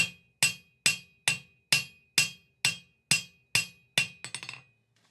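Hammer blows on hot metal while forging and flattening stock for scrolling tongs: nine evenly spaced, ringing strikes close by, then a quicker burst of lighter taps fading to silence.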